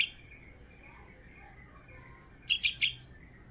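Three quick, high chirps from a fledgling bird close by, bunched together near the end after a stretch of faint outdoor background noise.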